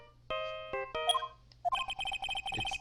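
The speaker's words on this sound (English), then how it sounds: "I know that song your phone plays when it rings." A phone ringtone playing the Steel Samurai theme song in a Phoenix Wright: Ace Attorney video game, a bright synthesized melody of clipped repeated notes that starts, pauses briefly, then resumes in a quick rhythmic pattern, fairly quiet.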